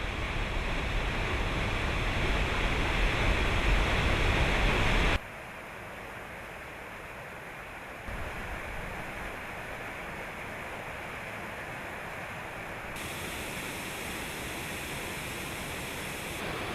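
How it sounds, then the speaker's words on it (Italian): Fast, turbulent mountain streams in the Apuan Alps rush with a steady, dense roar of water; the sound is loudest at first, then drops abruptly to a softer, continuous rush that lasts to the end. "per creare corsi d'acqua veloci e tumultuosi che fanno a gara per andare a gettarsi nel vicino mare"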